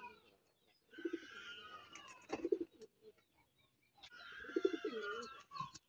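A short-footed show pigeon coos nearby in two bursts of low, throaty rolling coos, each with a sharp pulsing peak, separated by a quiet gap, with faint chirping birds in the background.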